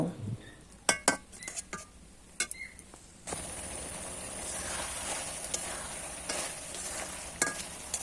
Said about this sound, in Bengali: এবার একটু নেড়ে চেড়ে কিছু সময় রান্না করে নেব